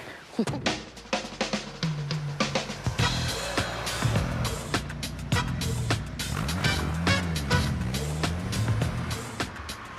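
A Ford RS1800 rally car being driven, its engine revving and changing pitch with gear shifts, loud and close over road noise, with occasional brief speech.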